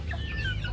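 A chicken clucks close by on a rural Filipino farm, a short, near call with a low steady hum underneath.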